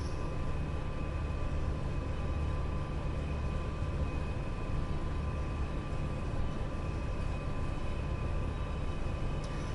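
A train in Train Sim World 5 slows on its approach to Euston past the Camden Road sidings, giving a steady, even rumble with a constant motor hum and no distinct clanks.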